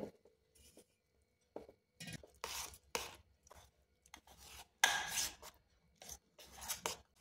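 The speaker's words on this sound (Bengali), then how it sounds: "এবার গরম জল দিয়ে এটা ভালো করে গুলে নেব।" Rice flour and plain flour being mixed with hot water into a batter for soft milk pitha: repeated scraping and rubbing strokes in a bowl, coming in short uneven bursts with brief pauses, close and fairly quiet, no talking.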